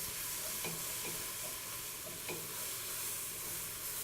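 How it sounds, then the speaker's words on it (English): Mushroom stroganoff seasoned with salt and pepper is stirred in a frying pan, a steady soft sizzle with a few faint scraping strokes of the utensil, heard alone without talk. "Give that a stir around."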